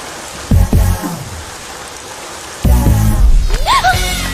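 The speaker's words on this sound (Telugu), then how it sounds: "వర్షం పడుతుంది" Rain falls steadily through a film scene, a continuous soft hiss that swells louder partway through, with brief voices and other sounds breaking in over it.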